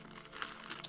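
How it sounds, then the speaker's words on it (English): Plastic packaging from a bundled Warhammer 40,000 Conquest partwork magazine is crinkled and rustled in a short, quiet burst of several crisp crackles. "Excuse the rustling."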